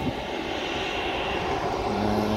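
A Lion Air jet readying for takeoff at Sultan Hasanuddin International Airport, Makassar, gives a steady, even engine roar from a distance, continuous and moderately loud throughout, with no talk.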